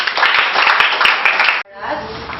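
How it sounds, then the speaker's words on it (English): Students in a classroom applauding the debate teams, dense clapping for about one and a half seconds, then a speaking voice after it cuts off. "So a big clap for the opposition and a big congratulations for the both of the groups"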